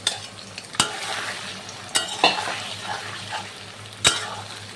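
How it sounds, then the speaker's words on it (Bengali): Soybean chunks and egg are stirred and fried in hot oil, with a steady sizzle under sharp spatula scrapes and clanks against the pan, close and fairly loud. "নেড়ে ভালো করে ভাজা করে নিতে হবে।"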